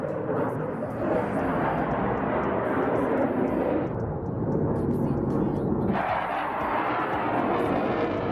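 Airplanes at a 2022 airshow pass overhead, heard from a balcony as a continuous broad roar that dips slightly and then swells again near the end.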